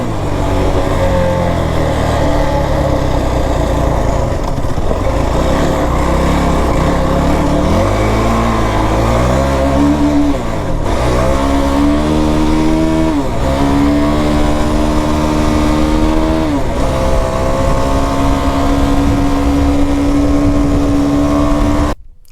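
A Yamaha YFZ 450R and a Kawasaki KFX 450R ATV engine rev hard in turn, loud and close, with repeated rising and falling throttle sweeps and no talking.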